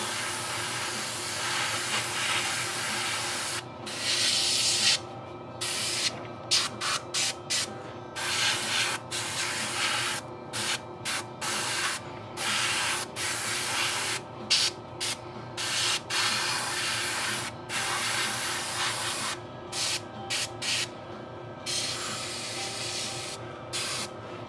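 Burnt sienna paint sprayed onto a figure from an airbrush-style sprayer, a steady close hiss running throughout with frequent short breaks as the spray starts and stops.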